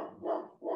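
A dog barks twice in quick succession nearby, two full, loud woofs with a brief gap between them, no talking over them.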